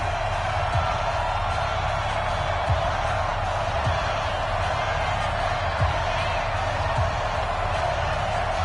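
In the EA Sports NFL video game, a stadium crowd roars steadily before a Miami Dolphins matchup against the home team. The dense, continuous noise holds an even level throughout, with faint low thumps underneath.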